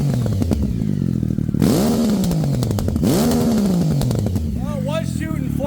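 A Yamaha Raptor ATV swapped to a 1050cc engine runs loud and close, with two quick throttle blips that rise and fall before it settles back to a steady, rumbling idle.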